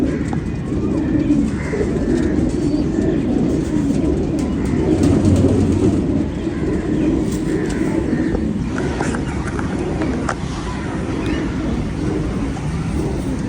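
Pigeons kept for flying, a pair in a loft with good feathers, cooing in a steady low murmur throughout, with continuous ambient noise and faint distant traffic.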